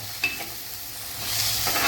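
Tempering spices with fenugreek seeds crackle and sizzle in hot oil over a low flame, a steady bright hiss that swells louder toward the end, with a few soft stirring scrapes.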